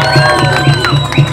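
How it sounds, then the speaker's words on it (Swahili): Rally crowd cheering and shouting at a political campaign event, with loud excited voices and whoops rising in repeated bursts, close and dense, with children's shouts mixed in. "Makofi mengi sana."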